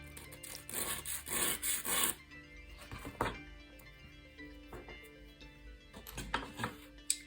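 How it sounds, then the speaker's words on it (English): Sanding a handmade piece into shape for a replica hidden blade, heard as close, repeated rasping strokes in bursts, with a few knocks between them and no talk. "get this piece and sand it like that until you create a shape like this one."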